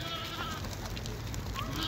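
Sheep bleat at a livestock sale where ewes with lambs from Kalbajar are offered, the calls short and mid-distance over a steady, noisy outdoor crowd hum.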